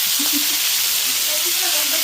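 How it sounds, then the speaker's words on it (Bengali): Fish frying in a pan, a constant close sizzle with faint murmuring voices underneath. "এটা হচ্ছে অরিজিনাল মাছ ভাজা"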